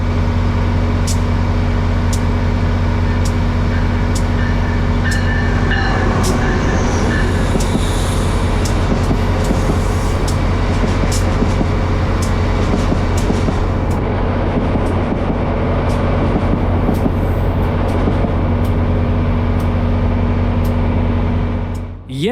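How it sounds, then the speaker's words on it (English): Amtrak Vermonter Train 57, led by ACS-64 locomotive 617, rolls past on track 3 at Norwalk, a loud, steady rumble and rush of wheels close by with occasional sharp rail clicks throughout. "Amtrak Vermonter Train 57, led by ACS 64 617, rolls past on track number 3"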